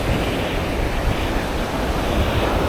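Rough surf at Jurerê beach in Florianópolis, a steady close roar of breaking waves and wash with wind buffeting the microphone throughout, no voices.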